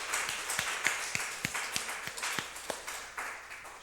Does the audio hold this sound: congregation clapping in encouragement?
yes